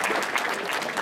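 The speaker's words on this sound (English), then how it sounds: "please give a big applause to all the powerconnect session leaders." A brief burst of dense clapping from an audience, steady and even throughout.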